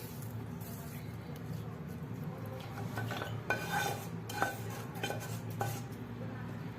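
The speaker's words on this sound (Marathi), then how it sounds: "त्यानंतर मग आपण तयार केलेली फोडणी सगळी या चिवड्यावरती ओतून घ्यायची" Hot tempering poured over a large kadhai of thin poha chivda and tossed, with metal spoon scrapes and clinks on the pan, a few sharper knocks toward the end over a steady low kitchen hum.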